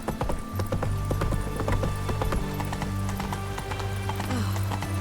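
Roach, a horse in The Witcher 3 game, trots with steady, close clip-clopping hooves on hard ground, mixed with faint creaks of tack and a soft background hum.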